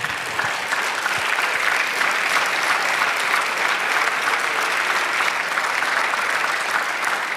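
A church congregation gives loud, sustained applause, a dense and even roar of many hands clapping that holds steady for about seven seconds with no talking over it.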